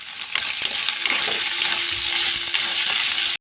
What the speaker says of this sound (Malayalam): അപ്പോൾ എണ്ണ കാഞ്ഞാൽ വെളുത്തുള്ളി ഇടണം, ചെറിയ ഉള്ളി, ഇഞ്ചി, പച്ചമുളക്, വേപ്പിൻ്റെ ഇല വഴണ്ട് വരട്ടെ